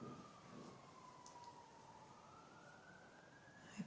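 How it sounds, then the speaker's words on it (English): A distant siren drones faintly in a slow rising and falling tone over low background hum, with no one speaking. "I apologise for the siren."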